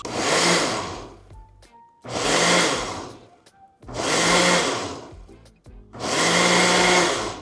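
A kitchen blender pulsing Brazilian cheese bread batter, four loud whirring bursts of about a second each separated by short pauses, close and without talk.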